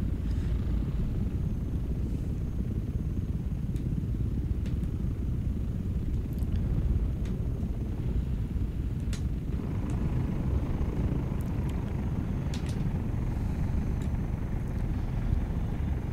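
A constant low engine rumble from an aircraft in Microsoft Flight Simulator holds steady throughout, with a few faint clicks on top and no speech.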